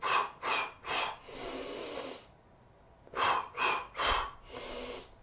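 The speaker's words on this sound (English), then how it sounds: "still exhaling, completely engaging the core and breathing into the back" Forceful breaths during a Pilates exercise, close to the microphone: three short sharp puffs then a longer sustained exhale, a pause, and the same pattern repeated, no speech.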